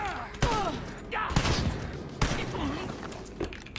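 A gunshot in the video game Wolfenstein Youngblood fires as a few sharp, loud booming blasts with rumbling tails, mixed with the game's other sound effects and some voice.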